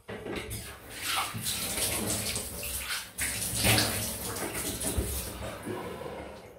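An Alpha Shaving Works Bandit DE safety razor fitted with a Nacet blade is rinsed under a running tap, a steady close splashing water stream with brief shifts as the razor moves through it.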